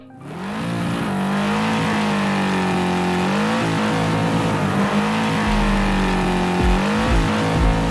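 A large white truck's engine runs steadily while driving on a road at about 35, with rising and falling revs and some road rumble, loud and close.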